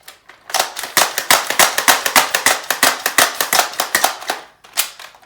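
A Zuru X-Shot Bug Attack Swarm toy blaster slam firing, a rapid string of about twenty sharp, loud plastic snaps in quick rhythm, then a pause and two more shots, close and outdoors.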